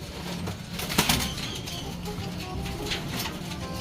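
Young pigeons from a newly weaned first batch of squabs coo softly in a loft, blended with wing flutters and rustling; nearby human voices murmur faintly under the birds.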